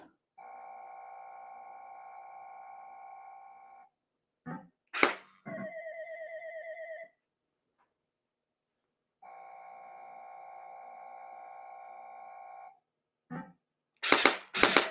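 Electronic gun shots and game sound effects from a Terminator 2 pinball machine's gun, heard as long sustained buzzing tones, brief sharp bursts and a chirping sweep, loud and close with no talk.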